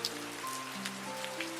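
Steady rain falls through the night, a soft continuous hiss of drops on surfaces that holds evenly from start to finish, with faint sustained tones in the background.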